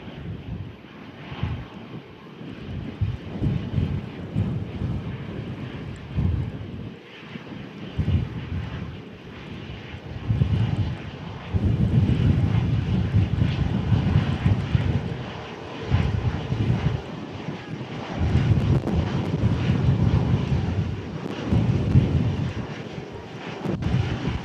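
EasyJet airliner at Manchester Airport in storm-force winds, its engines roaring steadily and loudly throughout, with gusts of wind buffeting the microphone.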